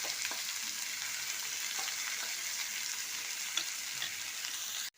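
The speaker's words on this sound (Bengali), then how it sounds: "আদা রসুনটা ভাজা হয়ে গেছে।" Ginger garlic paste fries in a hot pan with potatoes and jackfruit, giving a steady, close crackling sizzle with occasional stirring scrapes, cut off abruptly at the end.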